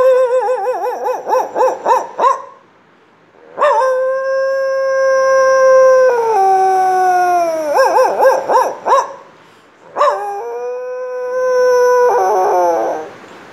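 A voice imitates a dog howling, several long wavering wails with rising and falling pitch, loud and close, broken by short pauses between cries.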